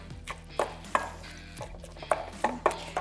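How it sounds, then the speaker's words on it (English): Chickpeas are being mashed with a hamburger masher, giving irregular soft thuds and knocks against a bowl, close and fairly quiet, with no talking. "It's a hamburger masher, but this is great to mash your chickpeas."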